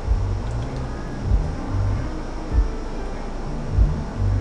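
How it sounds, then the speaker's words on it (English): A neighbor's car pulls up outside with its music blasting, heard from indoors as a muffled low bass thump and rumble pulsing every second or so under a steady hum. "My neighbor just came home. He's blasting some music in his car."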